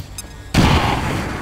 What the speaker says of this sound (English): So what we're gonna do is hit him with a grenade first off